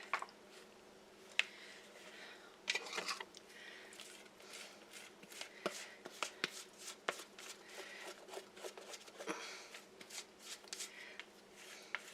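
Pumpkin donut batter made with Bisquick is scraped around a mixing bowl with a spatula, giving soft, intermittent wet scrapes and squishes at close range, fairly quiet throughout.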